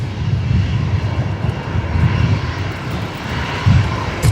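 A Qantas jet taxiing at Brisbane Airport at night gives a steady, fairly loud engine rumble with a continuous low drone and slight surges, no voices over it.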